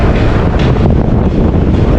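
Heavy wind buffets the microphone on a bike ride from Gaighat to Kathmandu, a loud, constant low roar that fills the whole moment with no talking.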